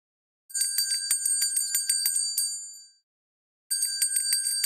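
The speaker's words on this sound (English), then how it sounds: "So the answer was the sound of a bell." Rapid ringing of a bicycle-style bell, a fast run of bright metallic dings lasting about two and a half seconds, then a pause and a second burst of ringing, clear and alone.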